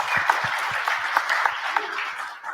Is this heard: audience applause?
yes